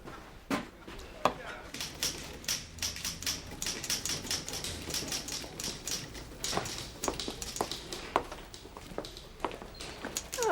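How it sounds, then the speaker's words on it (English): A typewriter clatters with rapid, uneven keystrokes close by, sharp taps arriving in bursts with brief pauses, some louder strikes standing out, all heard without any talk. "I've been typing up some of the work that Nora left unfinished on Naked Love."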